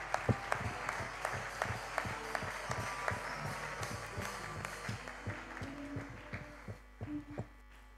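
A church congregation clapping in rhythm during worship, a dense run of sharp claps carried over a steady low electrical hum, tapering slightly toward the end.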